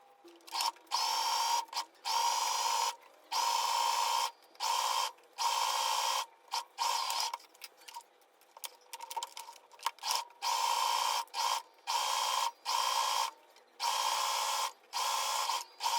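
Sewing machine stitching a fabric seam with a 1 cm allowance: short whirring runs that start and stop in a fast, regular pattern, close and fairly quiet, with brief pauses between bursts and no talking.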